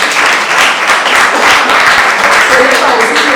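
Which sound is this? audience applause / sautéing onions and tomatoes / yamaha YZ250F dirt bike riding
audience applause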